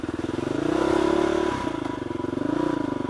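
A supermoto motorcycle on a ride, engine droning steadily and close with a pulsing rhythm, pitch rising then dipping briefly around a gear change before climbing again.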